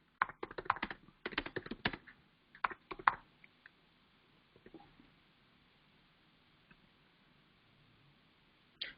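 Bursts of keystrokes on a computer keyboard during text entry into a notepad, quick clattering runs in the first three seconds, then scattered isolated taps and long quiet pauses, close and fairly soft.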